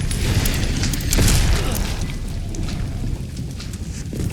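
Grenade blast in the video game Resident Evil Requiem, a heavy booming explosion that swells early and then rumbles down into lingering debris and mechanical noise.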